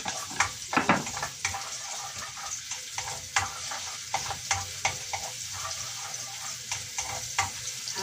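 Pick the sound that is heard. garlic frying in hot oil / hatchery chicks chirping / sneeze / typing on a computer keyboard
garlic frying in hot oil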